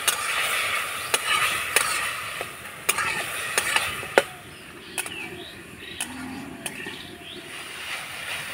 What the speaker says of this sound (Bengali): নাড়াচাড়া করে আমি পুরটা তৈরি করে নেব